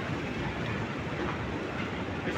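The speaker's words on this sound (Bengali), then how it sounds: "কাতারের মেট্রো রেল স্টেশন, এটা চলছে" A metro train running through a Doha, Qatar metro station, a continuous dense rumble and rush held close and steady without a break.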